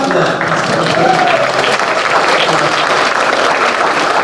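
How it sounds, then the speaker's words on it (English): Delegates at a chess federation meeting applaud after a motion to adjourn, steady dense clapping filling the room without pause from start to finish. "let's clap for that"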